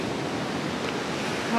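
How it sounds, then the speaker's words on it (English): Ocean waves surge through the London Bridge rock arch on the Australian coast, a steady broadband wash of surf and wind noise, close and continuous with no distinct breaks. "it's crazy to see the waves coming through the London Bridge"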